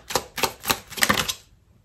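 Tarot cards being shuffled by hand: a quick run of crisp, close riffling snaps and taps in a short burst, then silence, with no talking.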